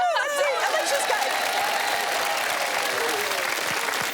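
Studio audience of a lifestyle TV show gives Alisha Henderson a warm round of applause, steady full clapping with light cheers and chuckles, close and loud throughout.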